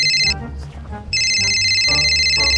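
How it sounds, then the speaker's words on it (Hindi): A mobile phone ringtone rings loudly in bursts, breaking off briefly before resuming, with people talking over the pause and under the ringing. "ये किसका फोन बाज रहा बाबा?"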